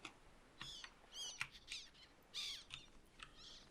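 Wild birds on a deserted island give sharp, close squawks and chirps in short irregular bursts over faint background hiss.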